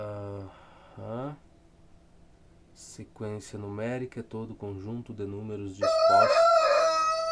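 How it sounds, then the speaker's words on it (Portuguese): Rooster crowing loudly and close by, one long drawn-out crow toward the end, cutting in after a stretch of steady speech. "Galo, animal miserável, por que tu não vai para outro canto, Galo? Tu não tem outro lugar para ir cantar, bicho?"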